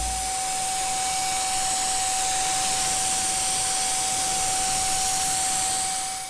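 An electric paint sprayer spraying a wooden fence gives a loud, steady, close airy hiss with a constant whining motor tone underneath, running unbroken for several seconds with no speech.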